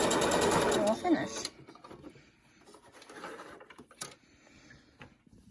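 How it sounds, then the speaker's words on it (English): A sewing machine back stitching elastic onto a cloth face mask: a loud, fast mechanical rattle for about a second and a half, then it stops and softer handling noises and a voice follow. "And back stitch to ensure the elastic is in place."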